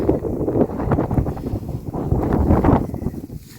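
Strong gusts of wind buffet the microphone on a hot day climbing Mount Beshtau near Pyatigorsk, a continuous low rumbling roar that swells and eases throughout.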